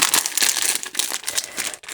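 Plastic packaging crinkles and rustles continuously up close, with a brief pause near the end before the crackling resumes.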